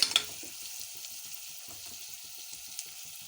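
Drumstick (moringa) pieces fry in a pan with turmeric, salt and chili powder for a jaggery curry, giving a steady low sizzle with faint scattered crackles throughout and no talking.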